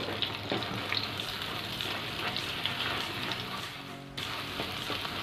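Beaten egg scrambled in hot oil for a Korean-style chicken fried rice, giving a steady close sizzle with stirring scrapes that cuts out briefly near the end before the frying hiss returns.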